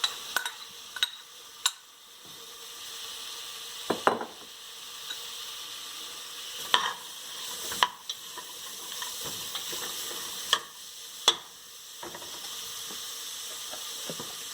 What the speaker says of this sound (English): And now I'm putting in carrots and peas.